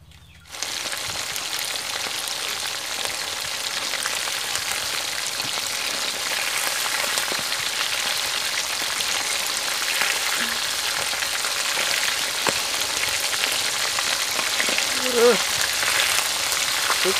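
Fermented fish (pla som) fries in a pan with a loud, continuous sizzle and crackle that starts abruptly and stays dense and steady, with occasional faint pops.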